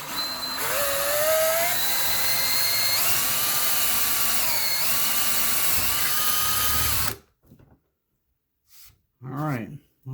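A power drill bores holes, its motor whining loudly and shifting pitch as the bit bites and eases for about seven seconds, then cuts off, followed by brief quiet and a short voice.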